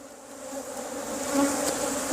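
Honey bees buzz steadily at an opened hive during winter hive maintenance, a dense, continuous droning swarm close by that swells slightly midway, with no talking.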